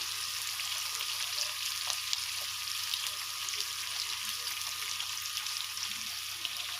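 Ghee and Dalda sizzling in a pan while cooking aloo biryani, a steady, fairly faint frying hiss that continues throughout with no talking.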